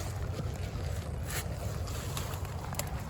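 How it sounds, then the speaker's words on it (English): A small seasonal creek flows steadily, producing a continuous broadband rush of water that stays even throughout, mixed with some low wind buffeting on the microphone. "little creek"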